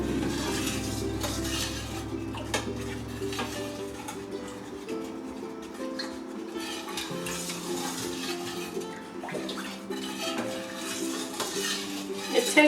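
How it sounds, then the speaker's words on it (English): Honey is stirred into elderberry syrup in a pot, a spoon scraping and clinking softly against the sides in a steady circular rhythm, close and quiet with faint liquid swishing. "So I'm stirring that in and getting it all dissolved."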